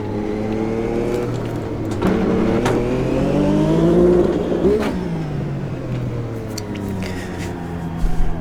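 Classic 1989 Formula 1 car in a racing game at the Jacarepaguá circuit, engine held steady on the pit speed limiter, a loud sustained harmonic drone with slight pitch wobble and small bumps, no talking.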